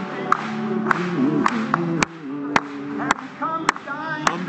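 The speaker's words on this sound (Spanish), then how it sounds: "Vamos a aplaudirle." A handful of people clap in sparse, uneven bursts during an evening church service, with singing or background voices and tones carrying on underneath the scattered claps.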